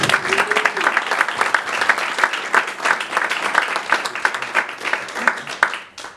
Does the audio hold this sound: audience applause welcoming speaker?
yes